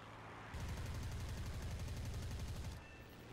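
Aircraft guns fire on a bomber in the War Thunder combat game as one loud, sustained burst of rapid shots lasting a little over two seconds, then cutting off. No voices are heard.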